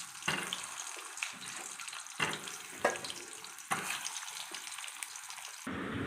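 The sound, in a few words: pointed gourd (potol) frying in oil in a wok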